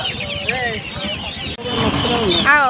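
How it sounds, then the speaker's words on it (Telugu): Giriraja chickens at a busy market, clucking and squawking repeatedly up close, with people talking over the birds throughout. "ఇవి గిరిరాజ కోళ్ళ ఇవి భలే ఉన్నాయి"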